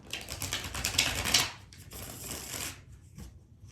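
Crisp riffling of tarot cards being shuffled, a dense flurry of papery flicks, then a softer second shuffle that trails off.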